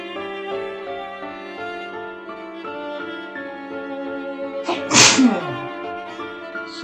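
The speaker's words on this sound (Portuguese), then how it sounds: "Eu sabia que eu ia começar a espirrar." A single sharp, loud sneeze bursts out near the end over a sustained musical background from an Omori game session, with no speech around it.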